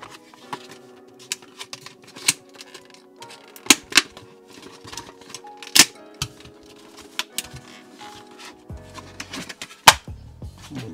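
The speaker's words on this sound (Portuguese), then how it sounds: "Cuidado aí com o estilete aí, mano." A box cutter slices open boxes of collectibles in a series of sharp, irregular clicks and scrapes, close and fairly loud, with a short rougher tearing sound near the end.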